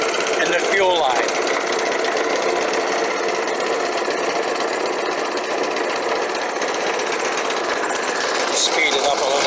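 A lawn mower engine with a surging fault runs loud and close, a constant buzzing drone that rises and falls slightly in speed, with a voice talking over it near the start and end.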